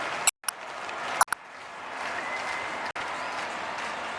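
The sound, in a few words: football stadium crowd cheering and applauding after a goal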